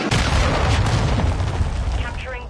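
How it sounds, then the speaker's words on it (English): A cruise missile blast in a military shooter game, one loud booming explosion at the start that rolls and decays over a couple of seconds, with a radio-style voice faintly underneath near the end. "Hostile cruise missile incoming."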